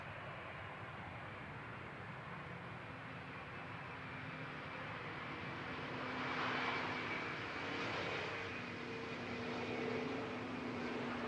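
An Embraer E195-E2 jet airliner on approach to Amsterdam Schiphol Airport passes at a distance, a low steady roar with a faint whine that swells slightly midway, quiet and unaccompanied by voices.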